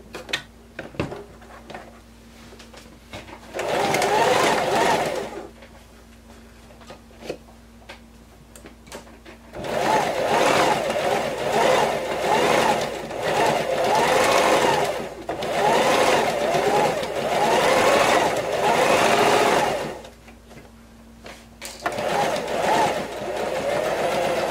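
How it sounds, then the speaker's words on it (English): Sewing machine stitching a half-inch blouse seam, running in several long steady bursts of whirring, rhythmic stitching separated by quiet pauses, close and loud. "I'm gonna sew it right now, half an inch."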